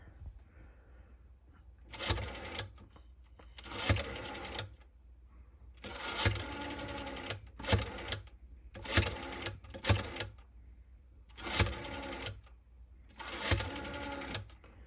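A 1938 Western Electric 302 rotary telephone being dialed, with a series of clicking, whirring bursts as the dial returns after each number and short pauses between digits, close and clear.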